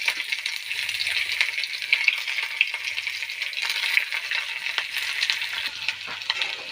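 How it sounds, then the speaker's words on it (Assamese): Onions fry in hot oil in a wok, giving a steady close crackling sizzle with occasional stirring scrapes and pops throughout. "পিঁয়াজখিনি ভাজা হৈ গ'ল"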